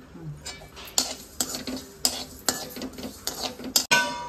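Fennel and mustard seeds roast in a pan for Kolhapuri masala, with sharp metal scrapes and stirring clinks over a faint sizzle, close up in an irregular rhythm.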